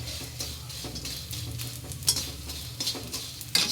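Gond and dry fruits roast in a pan for winter laddoos, a soft sizzle under repeated scraping stir strokes, with a few louder clinks of a utensil against the pan near the end.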